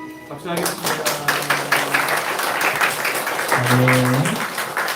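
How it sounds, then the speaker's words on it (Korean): Church congregation clapping during a Sunday service, a brisk burst of overlapping claps starting after a spoken line and running on under voices and sustained singing or chanted tones. "박수하겠습니다."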